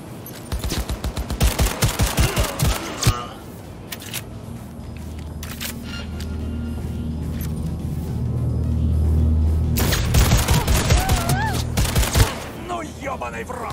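Rapid bursts of automatic gunfire from a smart gun in autonomous firing mode in the video game Cyberpunk 2077 crackle in quick succession, then a low droning hum takes over before more sharp shots break in near the end.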